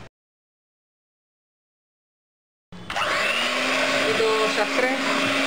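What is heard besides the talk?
mixer blending sugar powder for mango ice cream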